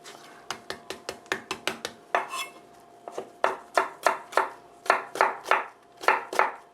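A knife cuts vegetables into thin strips on a cutting board while a green laver (parae) side dish is being made: quick runs of crisp, close chops, a short pause, then a slower, heavier series of evenly spaced strokes, with no voices.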